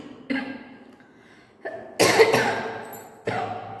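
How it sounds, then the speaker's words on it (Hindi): A woman coughing several times, sharp separate bursts close to the microphone with short pauses between them. "सॉरी, थोड़ी खांसी है इसलिए"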